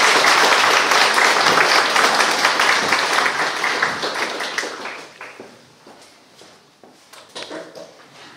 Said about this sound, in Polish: gorące brawa dla naszego artysty